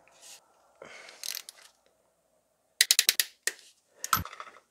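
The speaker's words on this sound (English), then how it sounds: "I'm just going to torque all these bolts to spec." Bolts in the engine bay of a BMW E31 850i being tightened with a hand wrench, heard as sparse metallic ratchet clicks in short bursts separated by silence, with one tight cluster of rapid clicks.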